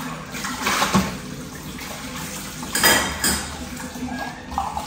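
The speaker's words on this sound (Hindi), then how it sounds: "ये देखो तो बर्तनों को जो चमकाने का एक वो है तरीका।" Kitchen utensils are washed and scrubbed under running water at home, with splashing water and clattering metal in several uneven bursts.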